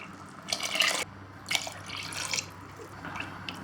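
Water poured into a cooking pot for chana pulao after curd and milk, making a soft splashing and dripping pour in short bursts, with no talking.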